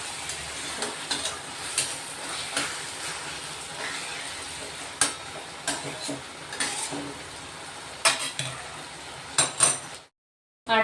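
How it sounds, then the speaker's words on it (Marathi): Onions and tomatoes being mashed while cooking in a pan, soft repeated scraping and tapping of a utensil over a low sizzle, irregular clunks throughout, ending in a short silence. "आणि असे पूर्ण बघा मॅश करून घ्यायचे शिजवताना"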